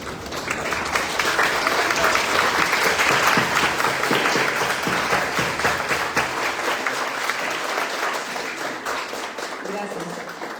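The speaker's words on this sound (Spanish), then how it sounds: "nos pongamos de pie y le demos un fuerte aplauso" A large standing audience at a lecture claps loudly and continuously for a guest speaker, swelling early then tapering slightly, with indistinct voices mixed into the applause.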